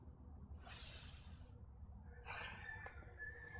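Exhaling breath during a low-impact ab workout, a soft, close breathy hiss lasting about a second, followed by a second, rougher airy breath, over a low steady background hum.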